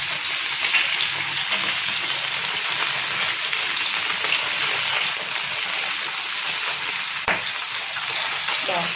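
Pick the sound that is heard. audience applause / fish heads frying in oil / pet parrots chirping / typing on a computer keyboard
fish heads frying in oil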